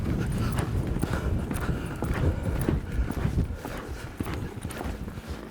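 Horse hooves clip-clop steadily on the ground as the horse works a cow, a busy run of close, rhythmic hoofbeats over faint outdoor background noise.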